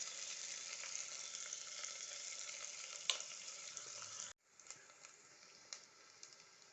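Peeled garlic sizzles steadily in hot oil in a pan, part of cooking a bottle gourd curry. The hiss is close and continuous, dips briefly, then carries on more softly.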